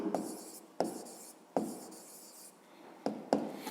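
A pen or pencil writes a fifth-grade maths exercise by hand, with short scratchy strokes and taps coming in irregular bursts, close and quiet, with no one talking.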